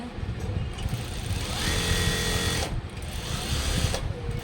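A sewing machine runs a second line of stitches along a blouse neckline, a short steady whir in the middle of the clip over a noisy room background.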